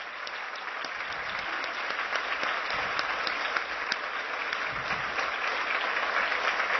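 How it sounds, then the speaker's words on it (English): Audience applause at a copywriting award event: dense, steady clapping from a large crowd that stays loud and even for the whole stretch, with no voices over it. "Please applaud Marcus"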